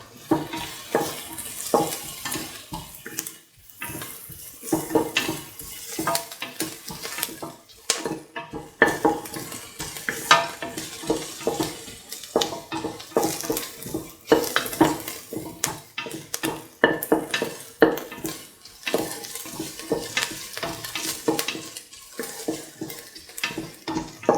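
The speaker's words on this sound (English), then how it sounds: "Keep on sauteing." A carrot rice dish is sautéed in a pan, with frequent irregular scrapes and clinks of a spoon against the metal over a light sizzle, close and busy throughout.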